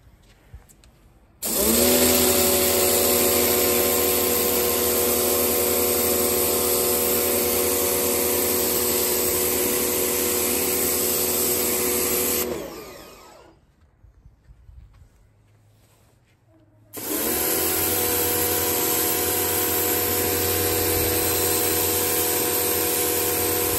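A Nilfisk Core 140 pressure washer runs loud and steady while cleaning a patio, a continuous motor whine with hissing spray that cuts out for a few seconds near the end, then starts up again.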